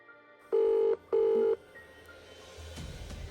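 A telephone is dialled, giving two loud, steady electronic keypad tones of about half a second each in quick succession, followed by a faint low hum and quiet line noise.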